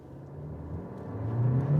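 A 2026 Kia K4 hatchback with a 1.6-liter turbo engine pulls away under full throttle, its close engine note climbing steadily in pitch and getting louder as it accelerates.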